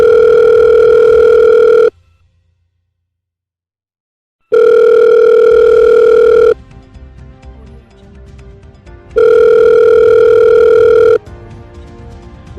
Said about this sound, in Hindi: उनके पक्ष को जानने के लिए उन्हें फोन लगाते हैं